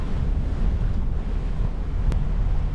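Breezy wind buffeting the microphone on a boat crossing Lake Oneida, a loud low rumbling gust with a water wash beneath and a brief sharp tick near the end.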